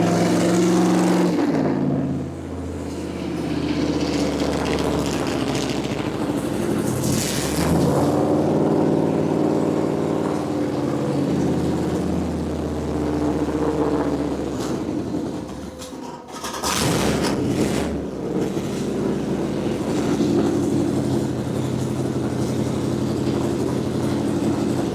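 An Oldsmobile Cutlass engine runs steadily for the whole stretch, its rumble swelling and easing as the throttle is adjusted, with a short dip near the middle before it settles back into a continuous idle.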